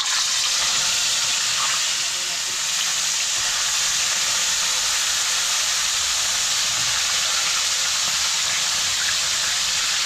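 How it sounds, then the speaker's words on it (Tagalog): Steady, dense sizzling of fish frying in hot oil, a continuous bright crackle that stays loud and even throughout. "Kapag prito na tayo, mainit na rin yung mantika."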